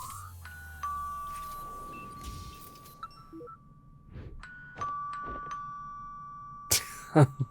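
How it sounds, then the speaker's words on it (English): A doorbell rings in the video game Imposter Factory: a clear electronic ding-dong chime that sounds at the start and again midway, with tonal game sounds and brief clinks around it. "A doorbell."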